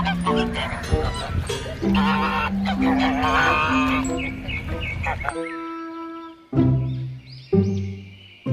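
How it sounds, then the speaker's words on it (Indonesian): Goose honking in a farm setting alongside other livestock, several distinct honks and calls, the latter ones loud and close with brief pauses between them. "ini angsa teman-teman."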